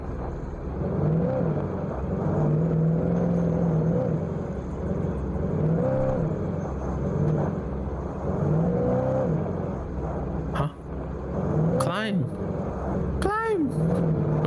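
A car engine in Alan Wake Remastered hums and whines steadily throughout, pitch rising and falling with gear shifts, with a few sharp revving sweeps near the end.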